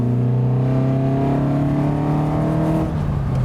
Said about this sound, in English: Oh, what a sound! Proper old school twin cam noises.